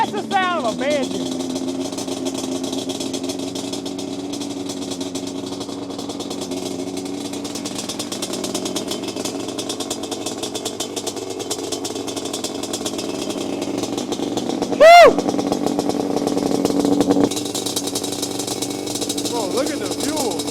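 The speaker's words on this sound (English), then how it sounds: "Oh, that's the sound of a Banshee." A custom-built Yamaha Banshee ATV engine idles and revs with a raspy two-stroke buzz, steady at first then a sharp loud blip near the end, with people talking over it.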